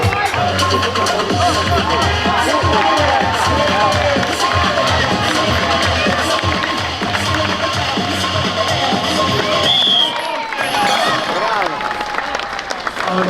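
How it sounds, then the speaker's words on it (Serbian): A crowd at a strongman competition in Bor applauds and cheers loudly and steadily, with general crowd noise and nearby voices mixed in, before the clapping tapers off near the end. "Ajmo aplauz."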